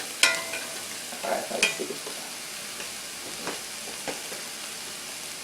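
Chicken and vegetables stir-frying in a pan, with soft sizzling and a few sharp clinks and scrapes of stirring near the start, then quieter frying; a voice speaks briefly.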